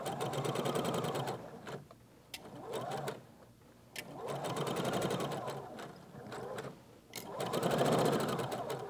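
A sewing machine stitches along a dress seam in three long bursts of rapid, steady whirring, pausing briefly between runs, close and clear with no talking.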